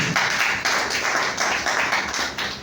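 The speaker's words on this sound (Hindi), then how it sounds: "जोरदार तालियां होनी चाहिए।" An audience at a business leaders' meeting claps together in a dense, fairly loud wash, with the clapping swelling and easing in quick rhythmic pulses throughout.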